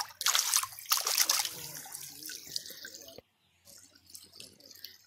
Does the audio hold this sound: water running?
yes